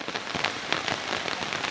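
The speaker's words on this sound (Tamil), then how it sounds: "அடாடாடா, என்ன மழையா பாருங்க மக்களே" Heavy rain pours over a village in a dense, continuous hiss, drops pattering hard on nearby surfaces, loud and close with no speech.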